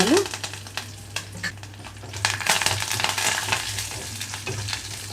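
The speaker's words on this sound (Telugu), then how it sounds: "ఆయిల్ కాగిన వెంటనే తాలింపు గింజలు పచ్చిసెనపప్పు మినపప్పు ఆవాలు జీలకర్ర ఎండుమిరపకాయలు వేసుకున్నాను" Tempering of chana dal, urad dal, mustard seeds, cumin and dried red chillies with curry leaves frying in hot oil: loud continuous crackling sizzle with scattered pops and light utensil clinks, close up, with no voices.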